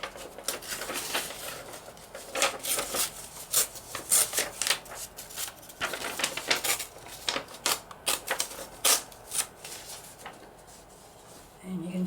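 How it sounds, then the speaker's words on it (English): Music paper being torn by hand for a paper-craft journal, a series of close, crisp ripping and rustling bursts of paper, irregular and with short pauses, at moderate volume. "I've got some music paper here. I can tear some of that off."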